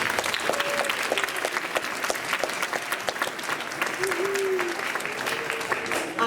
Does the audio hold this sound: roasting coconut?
no